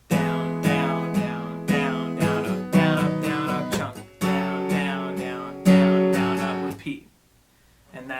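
Acoustic guitar strumming the chorus pattern of a song with a capo, a steady chunky rhythm of muted and full downstrokes, close and loud, before the chords ring out and fade near the end.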